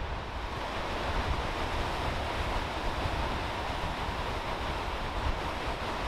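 Waves on a lake wash steadily against the shore at Crystal Beach as a storm and seiche approach, a continuous roaring surf mixed with wind buffeting, fairly close and alone with no talk.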